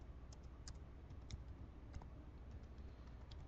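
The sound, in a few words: typing a folder name on computer keyboard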